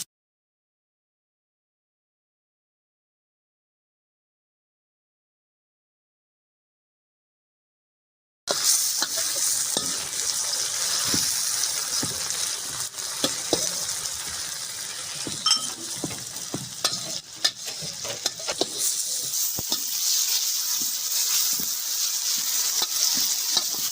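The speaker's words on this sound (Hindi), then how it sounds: "फिश का सालन बनाने हम टमाटर डाल रहे हैं इसमें।" Tomatoes sizzle and fry in a pan while being stirred for a fish curry, a steady loud crackle after a silent opening, with scraping stir noises throughout.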